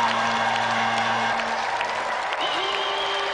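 Studio audience applause and cheering on a British video game TV show, a steady dense wash of clapping with a sustained tone running underneath and no talk.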